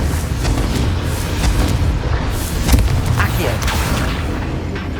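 A Confringo blast spell fires during a dragon fight in Hogwarts Legacy, a loud booming burst rolling through dense, rumbling battle noise that fills the whole clip.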